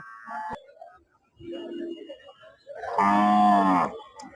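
At the Golakandail cattle market a cow gives one loud, close, drawn-out moo, preceded by quieter scattered market sounds and faint voices.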